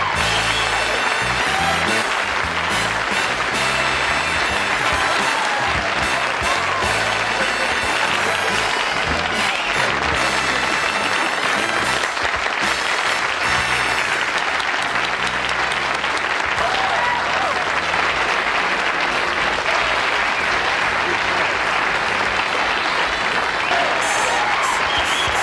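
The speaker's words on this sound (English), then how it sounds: "I'm humbled by that applause." A television studio audience applauds loudly and continuously, a thick roar of many hands clapping at close range that carries on without a break.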